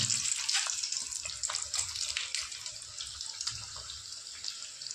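Potato vada for vada pav fry in hot oil, a continuous bubbling sizzle with scattered crackles and pops, close and moderately loud, easing slightly over time.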